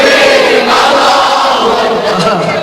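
A large crowd chants the takbir slogan Allahu Akbar together at a religious gathering, a loud, continuous roar of massed voices that stays close and sustained.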